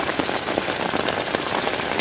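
Rain falls steadily outdoors in humid weather, a dense, loud hiss of drops pattering on surfaces without a break.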